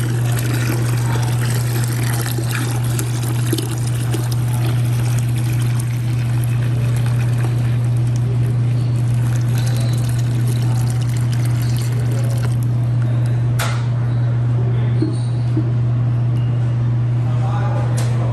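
A third gallon of water poured into a large batch of Panther Coffee Classic cold brew, a steady continuous pouring stream under a constant low hum, close and fairly loud throughout.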